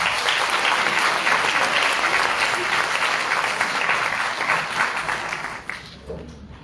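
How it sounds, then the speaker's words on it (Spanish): Applause at a public panel discussion: a dense, sustained wash of clapping from a large audience that carries on steadily for several seconds before tapering off near the end. "Un fuerte aplauso nuevamente, señor Pérez."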